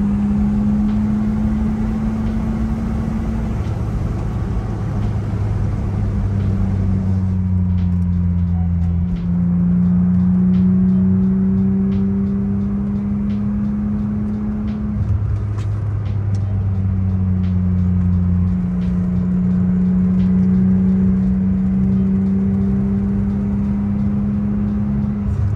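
A Dakar Yellow BMW E36 M3 on a test drive through curves: a steady, loud in-cabin engine drone whose pitch climbs and falls with each gear and throttle change, with a constant road rumble underneath.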